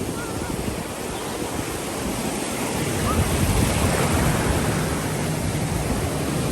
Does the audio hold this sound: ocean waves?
yes